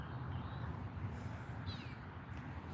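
A cat meows faintly a couple of times outdoors, short thin calls over a steady hiss of background noise.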